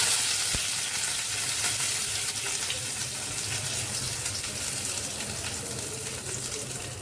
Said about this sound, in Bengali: ফোড়নে দিয়ে দিচ্ছি একটা তেজপাতা